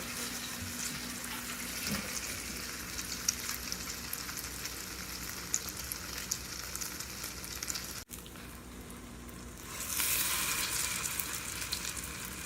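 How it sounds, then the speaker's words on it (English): Cubes of brioche French toast searing in a hot pan give a steady close sizzle with small crackles, joined late by a rush of running tap water. "we're basically just searing it like a regular French toast, but it's a cube"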